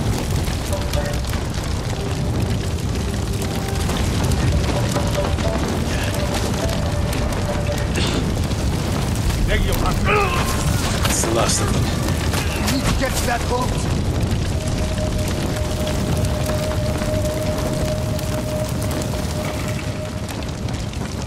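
Bombs go off in the video game Ghost of Tsushima during a raid, with booming blasts and splintering crackle over a dense, loud game soundscape while a player talks.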